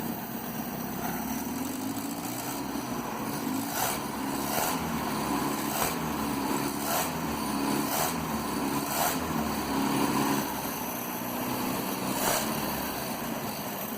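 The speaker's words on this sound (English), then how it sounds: "shall we give it a little bit of a rev?" A 1967 Land Rover Series 2a 109 engine runs steadily at a low idle with a few light rises in revs, a continuous mid-level rumble with no talking.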